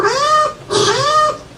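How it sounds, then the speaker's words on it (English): A cartoonish cat meow sound effect plays twice in quick succession as a time-up cue at a live comedy roast show, each call loud and clear with a rising-then-falling tone. "They are made aware of running over their time by the famous cat meow"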